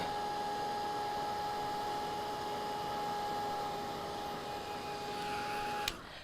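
A handheld dryer blows on paint on a painted Christmas star, a steady close whooshing hum with a thin whine that runs evenly, then clicks off just before the end.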